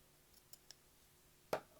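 Scissors cut through crochet yarn at the end of a chain stitch: a couple of faint ticks, then one sharp, close snip near the end, alone in a quiet room.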